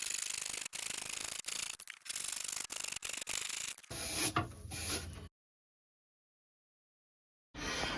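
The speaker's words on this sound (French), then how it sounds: "Pour couper le plan vasque, on coupe avec une scie" Rhythmic rasping saw strokes cut back and forth through a hard vanity countertop, then a harsher grinding stretch, a sudden silence, and the sawing resumes.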